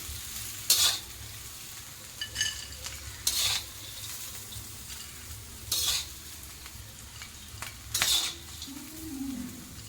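Green chillies being stir-fried in a pan, with intermittent bursts of stirring and scraping roughly every two seconds over a low steady sizzle, close and fairly quiet, no talking.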